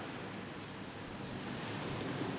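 Ocean surf on the Bali coast, heard as a faint, steady broadband wash with no distinct breaking crashes and no voices.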